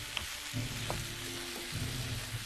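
Carrots cooking in a pan give off a steady, close sizzle with a few soft stirring clicks, continuous and moderately loud with no voices.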